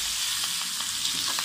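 Garlic chicken frying in a pan with a little oil, seasoned with pepper, giving a steady close sizzle with faint stirring scrapes, no talk.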